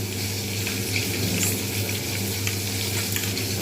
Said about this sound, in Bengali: মাছগুলো দেখা যাচ্ছে খুব সুন্দর করে ভাজা হয়ে গেছে